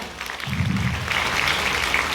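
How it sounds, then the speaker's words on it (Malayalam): Audience clapping for their company at an indoor business gathering, a dense burst of applause that swells from near quiet and holds steady for about two seconds. "നമ്മുടെ കമ്പനിക്ക് വേണ്ടി നല്ലൊരു കൈയടി കൊടുക്കാം"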